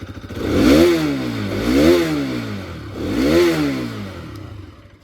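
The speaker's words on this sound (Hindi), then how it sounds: "तो ये आपके एग्जॉस्ट साउंड था RS 200 का" A Bajaj Pulsar RS 200 motorcycle's exhaust is revved three times up close, each rev a loud, rising then falling growl over a steady idle.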